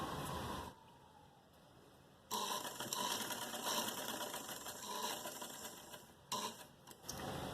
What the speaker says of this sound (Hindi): यहाँ पे मशीन रोकेंगे, फिर इस तरीके से सीधी सिलाई करेंगे।